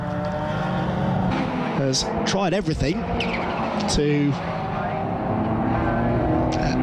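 Racing cars including a Golf and a BMW pass on the Brands Hatch circuit, engines rising and fading in quick successive sweeps behind continuous commentary.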